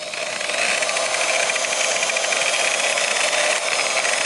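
A buffing wheel polishes a car headlight lens, giving a steady, loud, high whirring and rubbing hiss that runs without a break and eases off once near the end.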